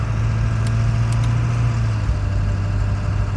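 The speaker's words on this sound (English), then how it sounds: "because the engine is still rotating, you still have air moving through the motor" A 2000 Ford 7.3 Powerstroke diesel with an injector dropout spins without firing while the truck rolls, giving a steady, even drone with a low hum and no combustion beats.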